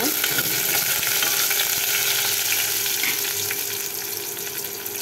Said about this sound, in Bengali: এখন দিব তেজপাতা, দারচিনি, একটু নেড়ে দিব।